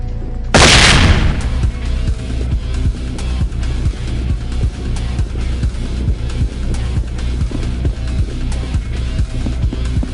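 Gunfire in the tactical shooter game SWAT 4 during a shootout at a county courthouse: a loud boom opens, then a steady run of close, sharp shots and bursts continues throughout.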